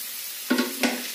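Capsicum being fried in a pan with carrots and egg for paneer fried rice, a soft continuous sizzle punctuated by two quick stirring scrapes, close and without talk.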